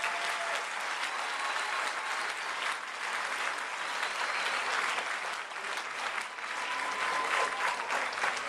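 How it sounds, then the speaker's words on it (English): An audience gives steady, dense applause for graduates at a corrections department graduation ceremony, sustained clapping from a large crowd with no talk. "Give them a round of applause."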